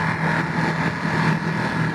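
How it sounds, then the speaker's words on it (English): A 2022 Ducati Monster motorcycle engine held at high revs, a steady, buzzing mid-pitched drone close by, with no talk over it. "Now I could enjoy a little bit of the engine sound, and yeah, at high revs it's really nice."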